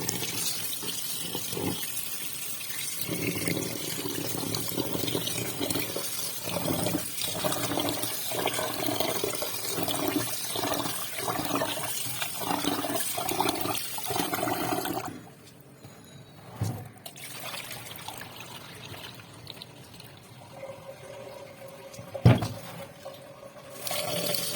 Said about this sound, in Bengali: এখন আমি এই চালগুলোকে ধুবো